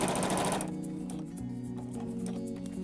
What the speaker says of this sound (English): we want to sew the whole bag together